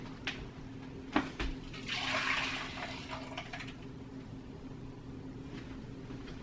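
Water carrying ground green coffee beans is poured out of a blender, giving a faint splashing gush with a few clinks and knocks in a quiet room.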